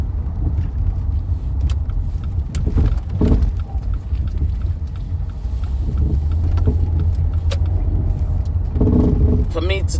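A car that is acting up runs while being driven, giving a steady low engine and road rumble with wind buffeting over it and a few brief knocks and clunks along the way.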